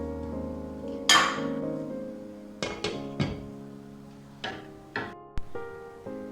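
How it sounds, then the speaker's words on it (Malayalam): A lid set down on a pot of rice cooking for Arabian chicken mandi, giving a sharp clink followed by several lighter, scattered clatters and taps against a low, steady kitchen hum. "നമുക്ക് മൂടി വെക്കാം ഈ റൈസ്"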